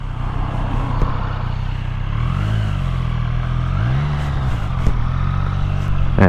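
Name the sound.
Triumph Street Triple 765 RS Moto2 Edition motorcycle riding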